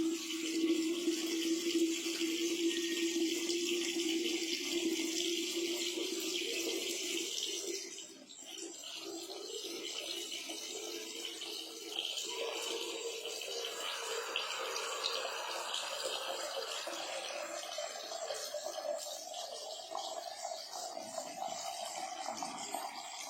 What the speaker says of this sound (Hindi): अब इसमें हम मिलाएंगे सादा पानी।